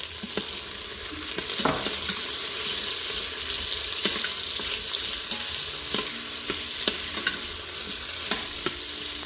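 Onions frying in oil with a pinch of salt for a vegetable biryani: a steady close sizzle with scattered scrapes and stirring knocks of a spoon in the pan.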